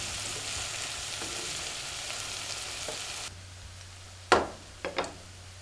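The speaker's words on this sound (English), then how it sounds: "lower the heat and let it simmer a little while" Mushrooms cooking in oil in a pan over lowered heat, giving a soft steady frying hiss that drops quieter partway through, followed by a few sharp clicks or knocks near the end.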